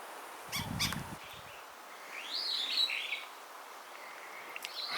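White-crowned shrike calling outdoors in Lewa Wilderness, a few faint, high chattering chirps over soft ambient hiss, with a short low rumble early on.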